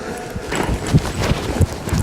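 A ridden horse's hooves clip-clop in an uneven series of soft thuds close by, with no one talking over them, as the horse is worked through shoulder-control exercises during a run-training session.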